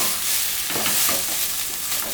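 Thuduvalai leaves being sautéed in a pan produce a dense, close frying hiss mixed with rustling stirring scrapes, steady for a couple of seconds.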